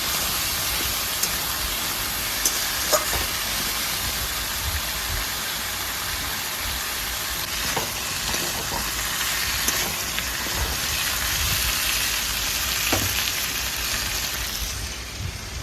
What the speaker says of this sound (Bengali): আদা বাটাটাকে দিয়ে একটু তরকারিগুলোর সাথে একটু কষিয়ে নিচ্ছি